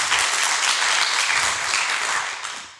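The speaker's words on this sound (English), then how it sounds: "Now you can clap." A conference audience applauds at the end of a talk, a dense, even burst of many clapping hands lasting a few seconds.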